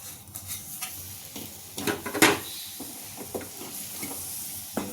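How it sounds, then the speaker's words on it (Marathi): Jaggery being stirred in a hot pan with ghee after roasting dried dates, for dink laddoos: soft scraping strokes and a light sizzle, with a sharper clatter near the middle, quiet and close. "गूळ टाकून आपल्याला सतत हलवत राहायचंय"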